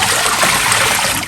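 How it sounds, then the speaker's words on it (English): Water from a bowl poured down a kitchen sink drain to find a leak, a steady close rushing trickle and gurgle filling the whole moment. "you can fill up a bowl of water, pour it down the drain"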